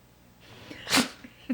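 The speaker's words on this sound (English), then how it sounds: "You're gonna sneeze." A cat gives a single sharp sneeze near the middle, close and fairly loud, with soft breathing and a faint little sound after it in an otherwise quiet indoor space.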